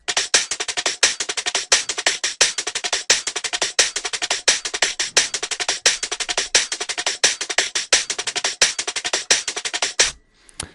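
Two layered neurofunk drum and bass drum loops play together, low-passed, driving a fast, steady stream of crisp, dense hits and scratchy percussion that stays loud and busy for about ten seconds before stopping abruptly.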